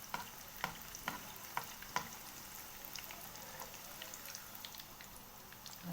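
Dough fries in hot oil as oudinat al qadi cook, with a faint continuous sizzle broken by several sharp crackles and pops early on, then settling into a softer bubbling hiss.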